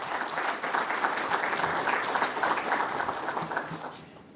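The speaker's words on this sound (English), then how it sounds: "So a round of applause for the RBI." Audience applause for the RBI at a Central Bank Digital Currency event, a dense, steady roar of many hands clapping that holds for about four seconds before fading at the end.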